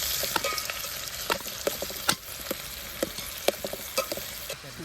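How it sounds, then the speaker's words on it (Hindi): Vegetables stir-fry in a pan for pasta at a forest campsite, giving a continuous close sizzle broken by frequent sharp scrapes and taps of stirring, with no talk. "तो हम लोग वेजिस को अपना फ्राई करते हैं, इसको ब्राउन होने तक फ्राई करते हैं"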